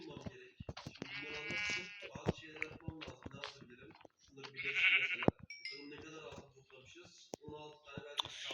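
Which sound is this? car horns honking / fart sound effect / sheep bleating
sheep bleating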